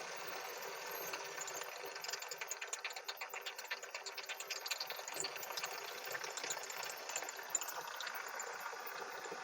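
A small jigsaw cutter machine runs at slow speed with a light, steady mechanical chatter. It sounds fairly quiet and continuous, with a faint rattling texture and no talk over it.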